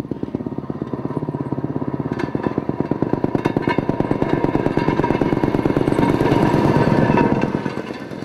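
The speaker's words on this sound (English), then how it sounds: "And the Goolsby brothers offer motor car rides." A railway motor car runs on a remnant piece of old mill track, its engine chugging in a fast, even clatter that holds steady and swells slightly louder before easing off near the end.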